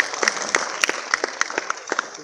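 A small conference audience claps in scattered, uneven bursts, a few sharp hand claps at a time rather than a full ovation, fairly close.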